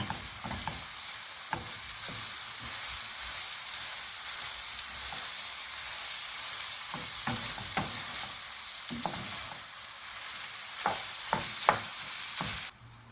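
Steady sizzling of ground meat and chopped onions frying in a pan, with occasional scraping and stirring clinks throughout.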